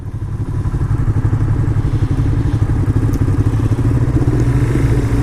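A Yamaha R3 small-displacement sport bike engine drones steadily at highway speed, a loud, continuous mid-pitched hum with rough rhythmic pulsing and wind rumble, no voices.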